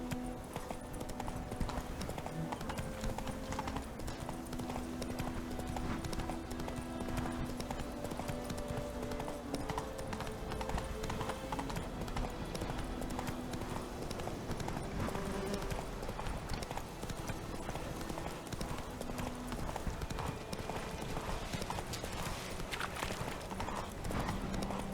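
Roach the horse trots along in The Witcher 3, hooves clip-clopping in a steady, continuous rhythm, close and clear, over soft background game music.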